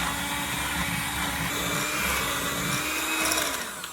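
An electric mixer whirs steadily at higher speed, beating powdered sugar frosting for blondie brownies, a constant close buzzing drone with slight wavering in pitch.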